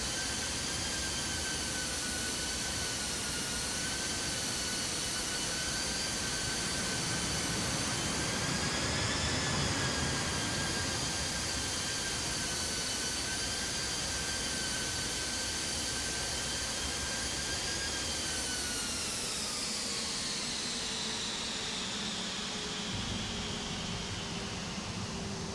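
An Aerosoft A320 jet in the Prepar3D flight simulator lands, its engines giving a steady, loud roar with a whining tone that slowly falls in pitch as the aircraft slows.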